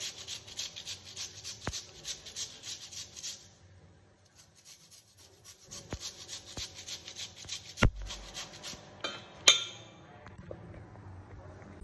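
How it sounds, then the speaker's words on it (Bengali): Potatoes are grated into thin shreds by hand, giving a rapid rasping scrape in quick strokes for a few seconds, then a pause followed by sparser scrapes and a couple of sharp knocks against the grater. "এবার আলুগুলোকে একটু ঘষে নিচ্ছি, যে একদম সরুটা করে,"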